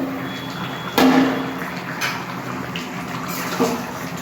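Water is poured into a simmering pot of bottle gourd and egg curry, then the lid goes on with a clunk. A splash and a metallic clatter stand out briefly, and softer knocks and kitchen noise follow.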